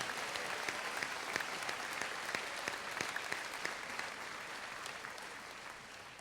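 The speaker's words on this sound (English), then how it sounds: "Please give him a very big round of applause" An audience at a middle school graduation ceremony claps steadily and fairly quietly for several seconds, a dense patter of many hands with no voices.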